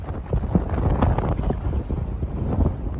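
Wind gusting at about 20 to 26 knots across a sailboat at anchor in a bay, a steady loud roar with buffeting on the microphone and faint water movement beneath.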